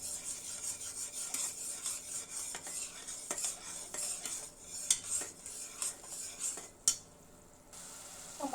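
Chili powder, turmeric and salt are stir-fried in a pan for a village-style fish and drumstick curry, heard as soft rhythmic scraping of a utensil over a low sizzle, with a brief quiet gap near the end.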